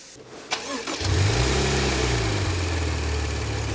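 A Maserati Levante engine cranks briefly, catches, and settles into a loud, steady idle close by.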